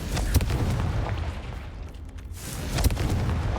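A booming blast from the Confringo spell in a Harry Potter video game, with a sharp onset, a deep rumbling body and a second hit near the end, heard without talk.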